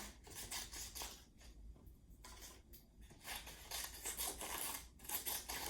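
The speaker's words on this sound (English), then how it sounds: "I'm cutting kind of fast, but I don't want you to cut too fast." Scissors snip through strips of green paper in quick bursts, a close, quiet, raspy rhythm of cuts with brief pauses between runs.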